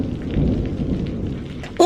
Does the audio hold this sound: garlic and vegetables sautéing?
no